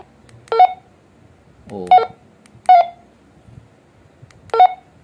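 Key beeps from a Baofeng UV-13 Pro handheld radio: four short, loud, tonal beeps at uneven intervals, with a brief murmur between the first two.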